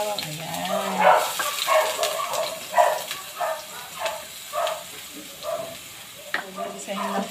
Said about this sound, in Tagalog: So, gigisa niya na ang bawang.